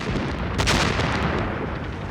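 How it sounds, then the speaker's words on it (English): German artillery shells pound a WWII shoreline in a dense, continuous barrage of booming blasts and rumbling, loud and close, with no voices. "From the shore came the shells of the German artillery."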